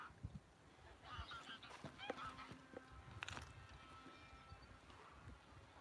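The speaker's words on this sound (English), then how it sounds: "And now we have geese coming." Geese honking on a Norwegian beach in spring, several calls at a moderate distance over steady outdoor ambience, with a few brief clattering sounds mixed in.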